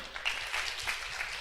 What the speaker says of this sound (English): we can clap for Ogoti again.